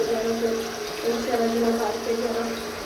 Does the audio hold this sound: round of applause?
no